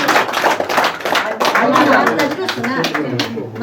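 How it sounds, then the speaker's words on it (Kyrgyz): Guests at a Kyrgyz family matchmaking gathering clap together, dense and lively close-up applause that runs the whole time with voices talking over it. "Айбай, бир кол чабыңар."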